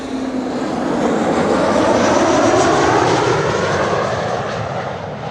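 Beechcraft King Air 350 turboprop flying near Amsterdam Schiphol Airport, a loud, broad engine roar that swells and holds steady as it passes overhead, with no talking.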